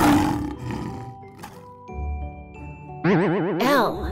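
A lion roar, loud and wavering, bursts in near the end after soft chiming tones, with two strong pulsing roars close up.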